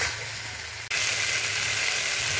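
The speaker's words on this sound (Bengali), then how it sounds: "সবজিগুলো ভালো করে কষাচ্ছি" Fried vegetables for a homemade vegetarian shukto sizzle as they are sautéed in spice paste, a steady frying hiss that dips for a moment and then comes back louder.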